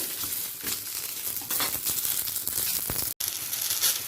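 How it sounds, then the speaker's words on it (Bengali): Mixed vegetables fry in only a little oil, giving a close crackling sizzle with crinkly bursts and a brief dropout near the end, with no talking. "খুব সামান্য তেল দিয়ে আমি সবজিটা ভেজে নিচ্ছি"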